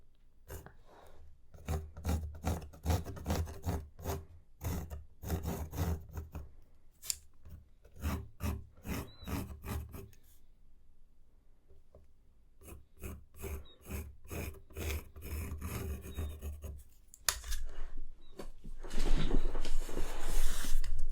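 Pencil drawing on a canvas, with close, dry scratching strokes in quick bursts separated by short pauses and a brief quiet stretch, turning into a denser rubbing texture near the end.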